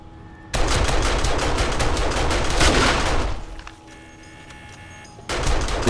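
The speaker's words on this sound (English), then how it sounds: "Which one's that shooting?" Rapid gunfire rattles in the 7 Days To Die video game, a loud continuous burst of shots lasting about three seconds, then a quieter stretch before the firing bursts in again.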